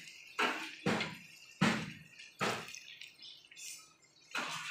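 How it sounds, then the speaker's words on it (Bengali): Hot water poured gradually into chicken curry in a pan after the oil has separated, giving several separate splashing, sizzling bursts in quick succession, fairly close, with no talk. "এই গরম জলটা দিয়ে দেবো আস্তে আস্তে"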